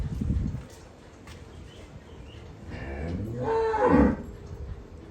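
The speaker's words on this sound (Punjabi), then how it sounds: "ਆਪਣੇ ਕੋਲ ਇਹ ਮੱਝਾਂ ਆ ਗਈਆਂ" Water buffaloes on a Punjabi village farm moo nearby, one long low call swelling loud near the end after a shorter grunt at the start, with faint yard noise between.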